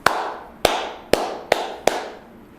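A teacher claps hands for students, five crisp, evenly spaced claps ringing out alone at a slow, steady beat.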